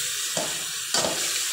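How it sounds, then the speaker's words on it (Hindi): Mutton frying with masala in a pot for degi yakhni pulao: a steady sizzle and hiss with two louder bursts of stirring or frying crackle. "अब मैं इसमें ऐड कर रही हूँ गोश्त, इसको हम अच्छे से भूनेंगे"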